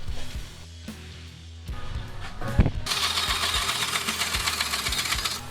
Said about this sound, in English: I used this to mark the angle I wanted so I could cut it on my bandsaw